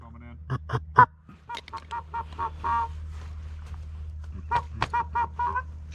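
Geese honking repeatedly during a duck hunt outdoors, a series of sharp nasal calls in irregular bursts over a low steady rumble, with occasional quiet voices.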